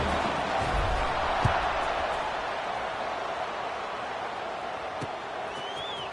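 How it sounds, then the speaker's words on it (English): Steady crowd roar fills a college football stadium during an NCAA game against Vanderbilt just after a score, a dense sustained buzz at a constant level with no single voice standing out. "this crowd is buzzing after that last score"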